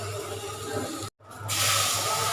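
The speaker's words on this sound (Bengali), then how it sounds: "চালটা ভাজা পানি দিয়ে দিব" Water poured into a hot pan of fried rice, a sudden loud hiss and steamy rush that swells after a short break and holds steady up close.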